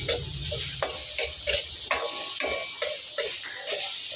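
Garlic and onions sizzle loudly as they are stir-fried on high heat for chopsuey. A utensil scrapes the pan in a quick, regular rhythm throughout, close and clear, with no talk.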